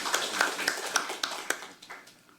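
Applause from a seminar audience after a speaker's presentation at a panel discussion, a steady patter of scattered claps that fades out, moderately close.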